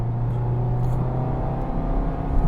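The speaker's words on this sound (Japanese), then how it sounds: "なかなかね気持ちいい排気音が室内にね入っていきます。" A Mazda Roadster RS (ND) with manual shift holds its engine near 5000 rpm, a steady, loud humming exhaust drone carried into the cabin of the open car, even and sustained without speech.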